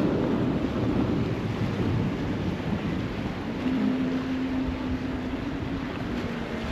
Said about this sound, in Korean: 제트스키? 제트보트? 운전하는 거 재밌을 것 같아요.